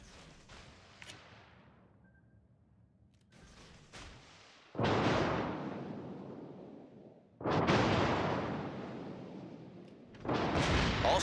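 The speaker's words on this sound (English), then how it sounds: "All stations, concentrate fire on the target." Naval guns on a destroyer fire at a target in a video game: loud, heavy booms with long rumbling decay break out in separate bursts, the blasts louder and fuller toward the end over a low hum.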